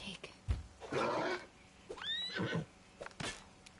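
A horse in the video game Pathfinder: Wrath of the Righteous neighs with a shrill, wavering whinny amid snorts, soft hoof clops and battle noise, with a voice briefly speaking.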